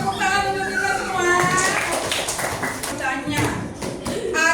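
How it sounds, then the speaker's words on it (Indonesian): A group claps hands in applause in a classroom activity, brief scattered claps beneath a person talking loudly over music. "Oke, tepuk tangan untuk kita semua."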